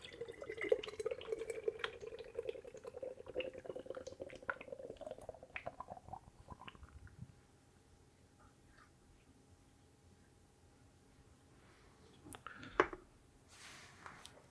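Nitrogen-charged foreign extra stout poured quickly from a can, a faint close trickle and gurgle of liquid that fades into a quiet fizzing hiss, followed by a brief clink near the end.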